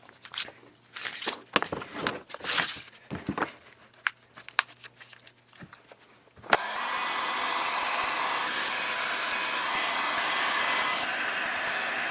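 A heat gun shrinks thick adhesive-lined heat shrink tubing onto heavy 2/0 welding cable. It starts after several seconds of tape and handling rustles, then runs as a loud, steady, close blowing roar until the end.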